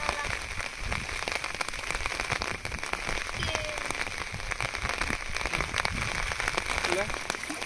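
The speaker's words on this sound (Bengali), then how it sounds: "বৃষ্টিতে দাঁড়ানো যাচ্ছে না, এত ছাতাগুলো উল্টে যাচ্ছে।" Heavy rain pours down steadily, a dense close patter on surfaces and umbrellas, with voices talking faintly beneath it while crabs are caught.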